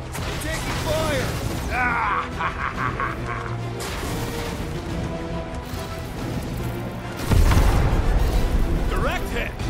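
Loud, dense in-game combat from the Guardians of the Galaxy video game: rumbling incoming fire, mechanical clatter and booming blasts, with a heavier low impact near the end, mixed under character voices.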